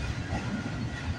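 Freight train rolling past at Bartlett Avenue in Toronto, a steady, dense rumble of railcars with faint wheel clatter, close and continuous throughout with no voices.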